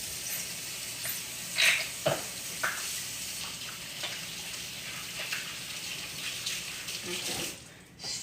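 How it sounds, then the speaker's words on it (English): Hands washed under running tap water in a home kitchen while a lamb roast is being prepped, a steady broad rush with small splashes and clinks, ending abruptly as the tap shuts off. "Let me give my hands a quick wash."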